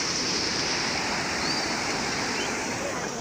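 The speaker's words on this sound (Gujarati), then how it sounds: "અહીંયા પણ તમે જોઈ શકો છો કેવો ધોધ સંભળાય છે ને" Water pours over a village pond's spillway in a steady, loud, broadband rush that holds unbroken throughout, near and alone without voices.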